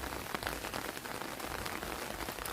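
Steady rain pattering on a Thai vegetable garden in Hungary, a continuous dense hiss of drops falling close by with no voices.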